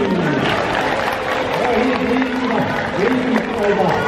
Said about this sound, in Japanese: 6年生、拍手。